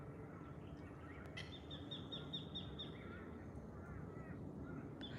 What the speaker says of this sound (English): You can hear the birds behind me